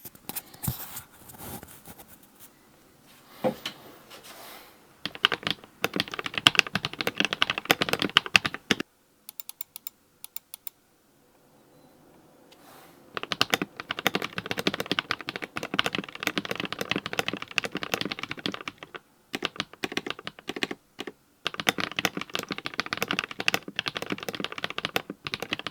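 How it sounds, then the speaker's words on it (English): Rapid clacky keystrokes on an AKKO 5075B Plus mechanical keyboard come in bursts separated by short pauses, close and crisp, with no talking. "I'm going to do a typing test into this microphone right here"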